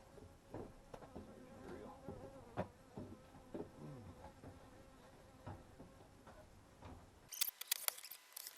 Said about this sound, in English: See some of the bee traffic coming in and out there